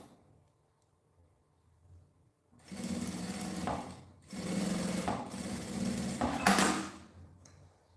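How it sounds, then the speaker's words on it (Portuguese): Domestic sewing machine stitching close along the bias-bound edge of a fabric toiletry bag, running in two bursts of steady mechanical whirring after a quiet start, fairly close and alone. "vou passar uma costurinha aqui na beiradinha do viés em cima e uma costurinha bem na beiradinha em toda a volta"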